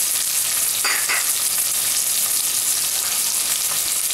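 About two teaspoons each of ginger and garlic fry in a pan for a white mutton stew, giving a steady, close, continuous sizzle with a brief stirring scrape and no voices.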